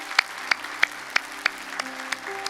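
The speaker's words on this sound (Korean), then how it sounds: "하나님께 큰 감사의 박수 올리겠습니다." A church congregation at a Sunday worship service gives sparse, evenly spaced claps, roughly three per second, fairly faint, over a steady low sustained tone.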